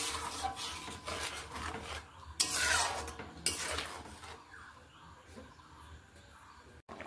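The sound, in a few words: stirring ghugni (curried peas) in a cooking pot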